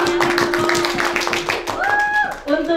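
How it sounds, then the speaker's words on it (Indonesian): An audience at a student debate claps for the pro team. A crowd claps steadily over a sustained tone and some room noise, and the applause thins near the end as voices come in. "Beri tepuk tangan kepada tim pro."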